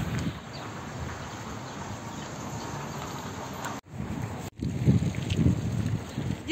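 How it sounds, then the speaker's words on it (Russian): Loud, steady wind buffeting the microphone on the Tom River embankment in Tomsk, Russia, a constant low roar that briefly drops out twice before gusting back even harder. "В общем, ветер просто ужасный."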